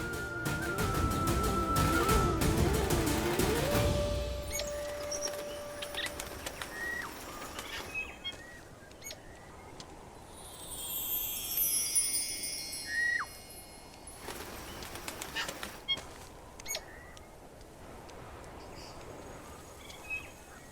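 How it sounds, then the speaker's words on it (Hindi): Melodious song of an unfamiliar migratory bird in a mythological Lanka setting: bright, whistled phrases come and go at moderate distance over a soft ambient bed, after a louder dense opening stretch. "ये तो कोई प्रवासी पक्षी है, किंतु इसने लंका की सीमा में प्रवेश कैसे किया?"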